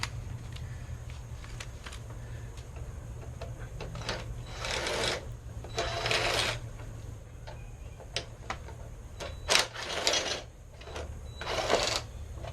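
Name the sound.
removing T25 bolts from a window motor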